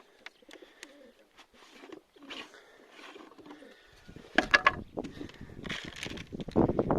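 Pigeons coo softly near a rooftop during feeding, with low murmuring calls and scattered flutters and scuffs that grow busier and closer toward the end.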